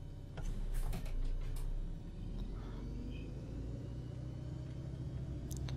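A city bus in the OMSI 2 bus simulator pulls away with a steady low engine rumble, faint ticking and a few brief clicks and hisses near the start, no voices.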